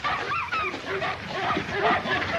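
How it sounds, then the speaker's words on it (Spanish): St. Bernard dog barking and whining in a classic adventure film, busy yelps and yips mixed with dialogue and background noise throughout. "Salvaje, ¿eh? Un San Bernardo."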